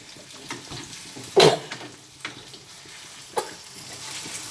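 Potatoes fry in a pan for aloo biryani, a steady close sizzle with occasional sharp metallic clinks and scrapes of a spoon stirring against the pan.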